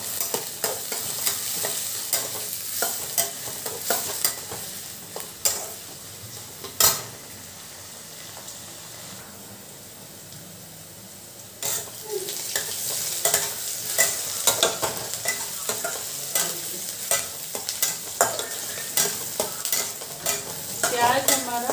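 Onion, green chili and garlic fry in a pan, a continuous close sizzle broken by frequent metallic spatula scrapes and clinks against the pan, with a quieter stretch midway before stirring resumes; no speech.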